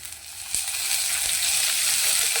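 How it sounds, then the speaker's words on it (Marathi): Onion frying in oil in a pan, a loud steady close sizzle with a few soft stirring knocks. "आणि कांदा अजून एकदा चांगला भाजून घेऊया याच्यामध्ये।"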